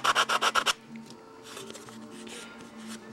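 Sticky-back sandpaper is rubbed in quick, close strokes, about six rasping passes in a row, followed by softer scattered scratching and handling noises.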